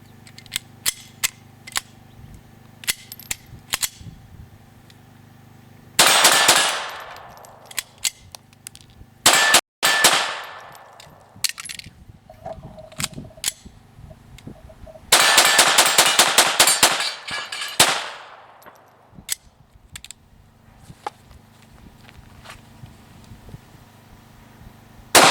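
A Sig Mosquito .22 Long Rifle pistol firing in several rapid strings of sharp, close shots, with quieter clicks and metallic handling noises between the bursts.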